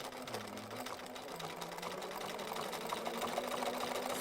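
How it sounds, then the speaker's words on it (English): A sewing machine runs a wide zigzag stitch with an ordinary sewing foot, its fast motor whirring and rattling steadily and close, growing slightly louder as it goes. "Nice wide zigzag, ordinary sewing foot on"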